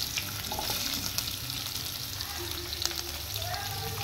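Onions fry in hot oil with a steady, close sizzling crackle, continuous and fairly loud throughout, with no talk.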